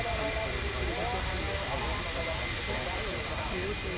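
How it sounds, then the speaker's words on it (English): A Volaris airliner at DFW Airport at night, its steady broadband engine roar holding evenly throughout at moderate distance with no clear build or fade. "We have a Volaris here."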